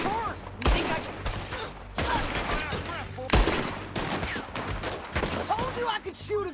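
Gunfire in the video game Red Dead Redemption 2, a loud fusillade of repeated rifle and pistol shots in bursts with ringing echoes, mixed under shouting voices.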